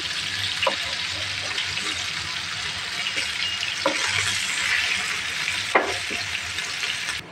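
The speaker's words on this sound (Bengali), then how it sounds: "মাছটা এক পিঠ ভাজা হয়ে গেছে, এখন আর এক পিঠ আমি ভেজে নিচ্ছি।" Bhetki fish sizzles in hot oil in a pot as its second side fries, a dense steady crackle broken by a few sharp clinks and scrapes of stirring.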